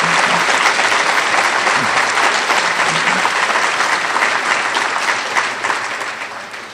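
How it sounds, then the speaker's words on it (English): An audience at a college event breaks into loud, sustained applause, thick and continuous, tapering slightly toward the end. "So give all of our young people a round of applause."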